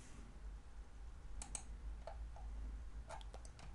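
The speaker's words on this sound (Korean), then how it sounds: "키보드에서 F12를 눌러주세요." A computer keyboard is being tapped: a handful of light, crisp key clicks in two short clusters over a low steady hum, quiet and close.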